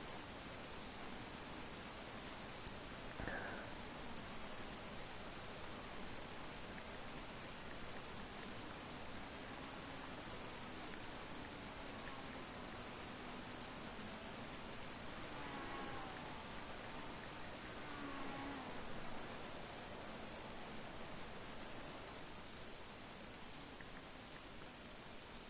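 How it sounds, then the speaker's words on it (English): Heavy downpour at Cadwell Park race circuit, a steady, dense hiss of rain that holds throughout the clip. "here's the downpour, look you can see it's heavier sheets of rain, here it is."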